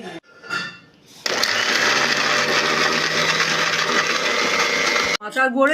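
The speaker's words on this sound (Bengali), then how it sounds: "আমলকিগুলো এবং শসাগুলো দিয়ে মিক্সি জারে আমরা ব্লেন্ড করে নিচ্ছি।" Electric mixer grinder blending amla and cucumber in a jar for a detox juice, a loud steady whirring motor run of about four seconds that cuts off abruptly, with brief kitchen noise before and after.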